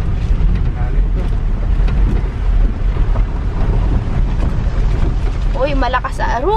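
Strong rushing floodwater in a rural Philippine area during rain, a loud, steady, close broadband roar with wind buffeting the microphone and a voice shouting briefly near the end.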